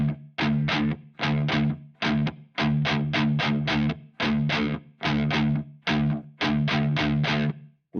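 Heavy distorted electric guitar riff, palm-muted in 7/8 time, with tight choppy bursts separated by short clipped gaps, loud and close with no talking.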